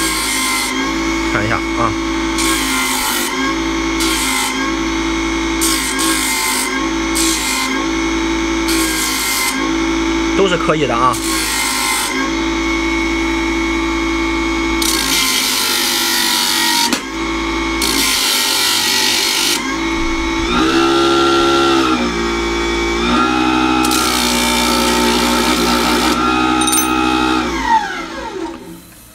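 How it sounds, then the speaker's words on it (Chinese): A small DIY mini machine fitted with a sandpaper disc sands a piece of wood, with repeated whirring and rasping bursts heard up close, stopping and starting, as someone speaks between passes. "打磨一下木头"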